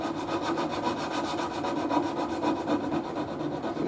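Steady, continuous abrasive rasping of sanding on a wooden bass guitar body as its sharp edges are rounded into bevels, close and even in rhythm without pause.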